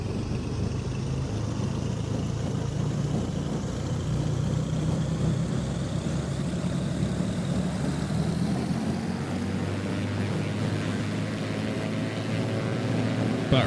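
Twin piston engines of a simulated Beechcraft B58 Baron run up steadily toward 2,200 RPM in X-Plane 11, a continuous droning hum with rising pitch, loud and alone.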